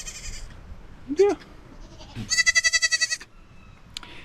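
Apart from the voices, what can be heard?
baby goats bleating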